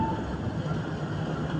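The Motis Nataru train waits at a platform in Purwokerto station, with a steady low rumble of railcars and station hum, moderately loud and continuous, with a faint announcement voice underneath.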